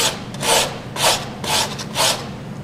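A hand file rasps along the edge of a wooden boomerang in four steady, evenly spaced strokes, close and loud, with a scratchy rubbing texture and no talking.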